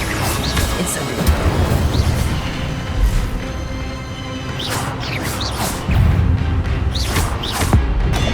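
Fire spell casting in Hogwarts Legacy, a series of whooshing magical bursts and crashing impacts with rumbling low thuds, several separate blasts spread across the stretch amid game effects.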